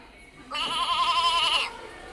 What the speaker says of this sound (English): That's goat.